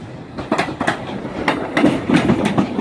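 A train rolls through Crewe station past platform 11 with rhythmic clickety-clack of wheels over rail joints, several sharp clunks in close succession, near and moderately loud.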